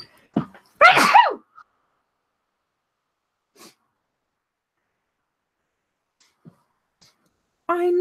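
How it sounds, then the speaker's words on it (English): One short, delicate human sneeze sounds up close near the start, followed by near silence with a few faint rustles and a brief breath or snort at the end. "I know, it's such a delicate little sneeze."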